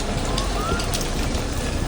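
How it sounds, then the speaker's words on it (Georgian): Steady, dense hiss of heavy rain pouring down close by in Rome, a constant wash of noise with no pauses. "და ძალიან წვიმს"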